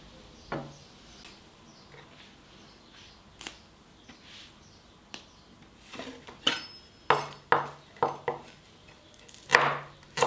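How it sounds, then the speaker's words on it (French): Knife strokes chop fresh tarragon and onion on a board for a melon salad, starting as sparse taps and growing into a closer, louder run of sharp cuts near the end, with faint kitchen clatter between. "Je vais aussi utiliser de l'estragon et de l'oignon frais que je vais couper et mettre dans mon saladier"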